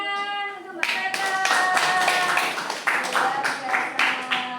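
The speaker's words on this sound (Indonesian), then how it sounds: "Beri tepuk tangan untuk Mbak Fata." Hands clapping in a classroom as students applaud a classmate, a burst of brisk, uneven clapping that starts after a short sustained tone and continues steadily to the end.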